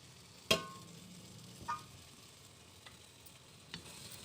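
Spoon stirring a brinjal curry frying with chili powder and coriander powder in a pan, one sharp scrape followed by a few softer taps over a faint sizzle.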